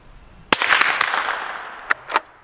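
Single suppressed shot from a Ruger American Ranch rifle in 300 Blackout, a sharp close crack with a short fading tail, followed by two fainter metallic clicks.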